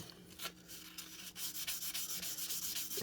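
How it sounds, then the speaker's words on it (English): Sandpaper rubs across the contacts of a Super Nintendo cartridge circuit board. It makes quiet, close, rapid scratchy strokes that grow into a steady rhythmic scrubbing, with no talking. "So I always start with the sandpaper"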